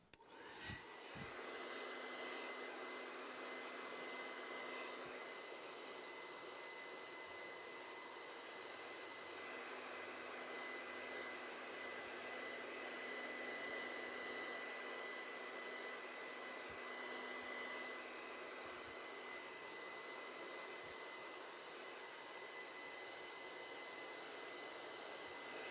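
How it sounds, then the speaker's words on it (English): A hair dryer fitted with a nozzle blows steadily while drying hair for a side-part style, a loud continuous whirring roar with a faint high whine, briefly clicking on at the start and running alone throughout. "I like to use a dryer with a nozzle on it so I can direct the heat"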